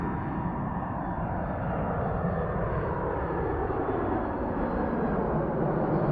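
Steady, loud broadband roar of an airliner engine heard from inside the cabin during landing, unchanging and continuous with no talk.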